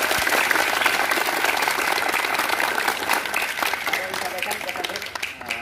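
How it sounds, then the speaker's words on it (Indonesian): Boarding-school students give a round of applause in a hall, a dense, fairly loud clatter of many hands that runs throughout and tapers slightly toward the end, with voices mixed in. "Tepuk tangan."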